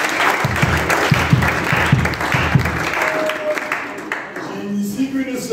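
A church congregation bursts into loud, sustained applause with dense overlapping claps from a large crowd, fading toward the end.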